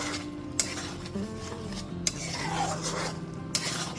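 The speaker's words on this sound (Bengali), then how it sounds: "সবকিছু দিয়ে খুব ভালো মতো একটু মিশিয়ে নিলাম।" A spoon scrapes and stirs moong dal with green chillies and sugar in a pot, with soft continuous rubbing and a few sharp clinks against the metal rim.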